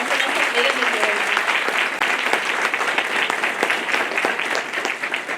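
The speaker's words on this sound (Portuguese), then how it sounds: "Eu gostaria de pedir uma salva de palmas a nossa mesa de hoje." Audience applause fills the room at the close of a coffee-industry entrepreneurship panel, a dense, steady clapping that carries on without a break.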